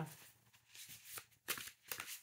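Black Violet tarot cards shuffled and handled by hand, soft papery riffles and slides in a few brief bursts, close and fairly quiet, with no talking.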